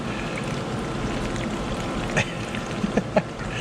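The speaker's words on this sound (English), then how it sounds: "Oh no, it's going everywhere. Well, speed up the pour, boss." A can of fuel additive is poured into a Ford Fiesta ST fuel tank, giving a continuous trickling, gurgling pour with a few splashy bumps toward the end, fairly close.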